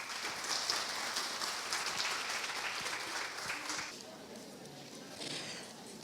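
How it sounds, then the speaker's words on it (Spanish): Steady applause from a conference audience welcoming a speaker fills the room, dense clapping that eases off slightly near the end. "La recibimos con un fuerte aplauso"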